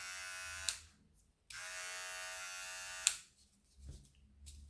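A Remington PG6021 all-in-one electric grooming trimmer buzzes close by in two short bursts, switched on and off, with brief clicks at the switch.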